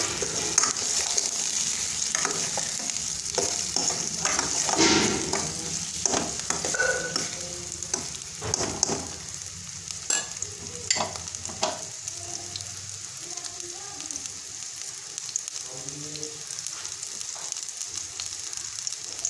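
Onion frying in a pan until golden brown, a steady close sizzle punctuated by frequent spatula scrapes and taps against the pan over the whole stretch, no speech.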